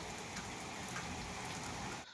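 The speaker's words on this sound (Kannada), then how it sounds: "ಮಳೆ ಅಂತೂ ಐತಿ." Steady, heavy first rain of the season in Karnataka, falling as a continuous dense hiss close by without voices, cutting off abruptly at the very end.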